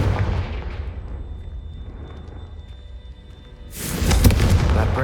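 A Confringo fire spell in the video game Hogwarts Legacy lands as a deep booming blast, first a rumbling roar that fades, then a second loud, fiery burst near the end.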